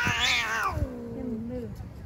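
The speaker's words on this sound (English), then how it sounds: "Cat fight." A stray cat outdoors in Istanbul lets out one drawn-out yowl that starts high and slides down to a low, growling moan, close and clear over faint ambient noise.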